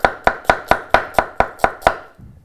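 A knife chops onions on a board, eight quick, sharp, evenly spaced strikes close up, then stops, with no talking.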